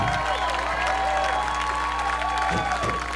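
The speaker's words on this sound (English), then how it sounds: "How about a nice round of applause for Jeff Holtz?" An audience at an ARCA Midwest Tour stock car race claps and cheers steadily throughout, a dense wash of applause with a few louder thumps near the end.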